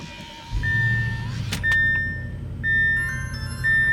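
An Audi RS7 being started up close: a starter whir, then the engine catching and settling into a low idle, with warning-chime beeps repeating over it.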